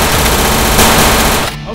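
Rapid gunfire from guns shooting in an animated movie, a loud dense burst of shots that cuts off near the end.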